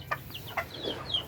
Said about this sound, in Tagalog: Yan po yung mga unang mga sisiw natin